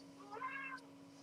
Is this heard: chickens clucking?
no